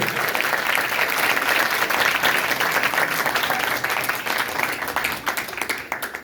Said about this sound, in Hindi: जोरदार तालियां यीशु मसीह के लिए